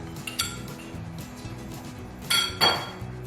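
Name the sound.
popping covers off towel bar mounts with screwdriver tip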